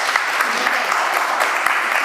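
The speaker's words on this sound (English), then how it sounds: "A round of applause, please." A college tour audience applauds after a talk on sustainability, with brief, even clapping that holds steady throughout.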